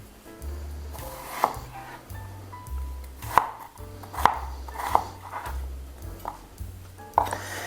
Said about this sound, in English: So I'm just chopping these segments into matchstick sizes,